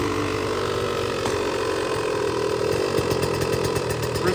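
A 2023 GasGas MC 85 two-stroke dirt bike engine runs steadily at close range in a garage, a continuous raspy buzz with a sharper revving flutter near the end, no voices over it.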